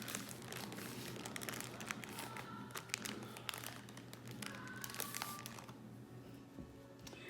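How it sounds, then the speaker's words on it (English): Plastic Ziploc bag being filled with icing for cake decorating, with continuous close crinkling and rustling broken by sharp clicks and taps, fairly quiet overall. "I'm going to put this icing into a Ziploc bag"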